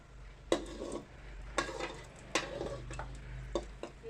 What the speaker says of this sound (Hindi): देखो ये समोसा छानने जा रही हूँ मैं